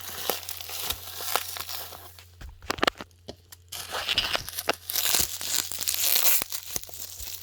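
Crinkling and tearing of a package being opened one-handed while unboxing a cheap secondhand graphics card, close rustles and rips in uneven bursts with a brief quiet pause midway.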